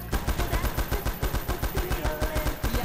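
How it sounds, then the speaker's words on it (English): Rapid automatic gunfire from an MP5 submachine gun in a GTA roleplay police pursuit, a steady stream of closely spaced loud shots lasting the whole stretch with no pauses. "one of them has a rapid fire though. I just got shot by a fucking MP5"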